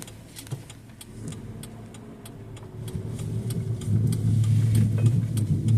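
A car driven on a flat tire, heard from inside, rumbles with a low engine drone that grows louder as it picks up speed, accompanied by a regular ticking thump from the wheel.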